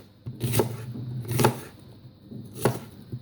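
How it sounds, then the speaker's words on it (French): A knife slices onions on a board in three distinct, spaced cuts, each a close, crisp thud-and-crunch with quiet pauses between. "On émesse toujours notre oignon."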